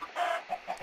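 A chicken in the Minecraft video game clucks three short times in quick succession, the first cluck longest and loudest, close and clear, with no talking.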